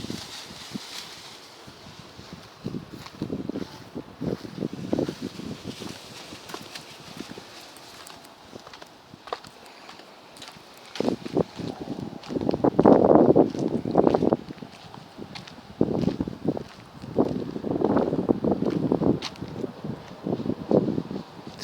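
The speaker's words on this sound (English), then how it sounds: "Very windy." Gusty wind buffets the microphone in rough, uneven bursts, growing stronger partway through, with rustling and scattered knocks.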